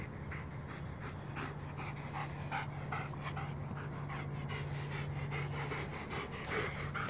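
A dog tired from playing fetch pants rapidly and steadily at close range, quick rhythmic breaths running throughout at a soft, low level with no voices.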